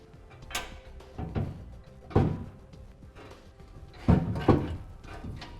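A Curt trailer hitch receiver being raised into place under a 2016 Ram 1500, giving several dull metallic thunks and clunks with scraping between them, close by and with no talk.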